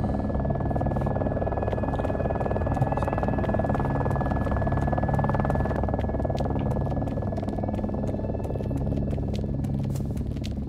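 A helicopter in DayZ thrums steadily overhead, its rotor chop forming a constant loud pulsing drone that lasts throughout, dotted with faint clicks.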